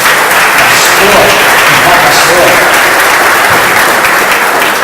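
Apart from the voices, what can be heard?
congregation applauding in church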